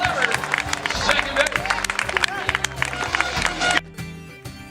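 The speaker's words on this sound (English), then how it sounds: "Give a big round of applause for Jeffrey." Crowd applause and cheering at a minor league baseball game in Hagerstown, with stadium music and chatter over it, filling most of the clip before cutting off sharply near the end.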